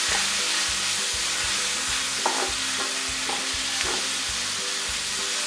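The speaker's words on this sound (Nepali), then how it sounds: "आधा मिनट जति यसलाई चलाउँदै फ्राई गरौँ।" Jackfruit curry with garlic-ginger paste and turmeric sizzles in a pan while a spoon stirs it in a steady rhythm, each scrape and knock clear over the constant frying hiss, with no voices.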